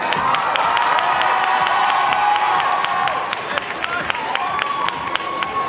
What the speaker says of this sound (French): Donc voici Alice, vous pouvez l'applaudir.